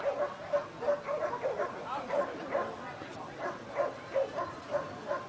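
A Belgian Malinois at a K9 training session during a bite demonstration barks in a quick, steady series of sharp yelps, moderately near but fairly soft, with people talking in the background.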